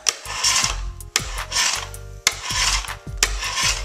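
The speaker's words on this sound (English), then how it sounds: "keep scraping away at it until your board is flat again." Excess p-tex is scraped off a snowboard base during base repair, in four long rasping strokes with brief gaps between them, close and fairly loud, with a hard scratchy edge.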